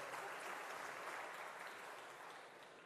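Sustained applause from a large crowd at a political rally honoring farmers and the Kileler anniversary, steady and dense throughout before easing slightly at the end, with no speech over it.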